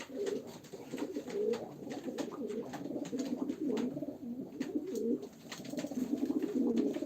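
Pigeons at a live auction of Turkish playing pigeons coo continuously and close by, in rolling overlapping phrases with no talk.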